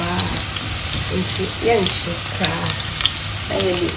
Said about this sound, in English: We want our cayenne pepper and the curry powder to infuse in the oil.